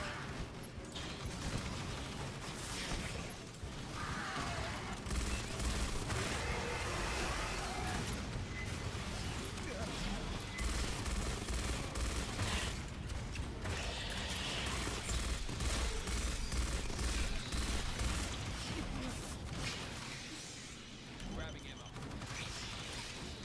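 Sustained turret gunfire rattles continuously through a fight in Aliens: Fireteam Elite, dense rapid bursts with mechanical clatter layered under game sounds, easing briefly near the end.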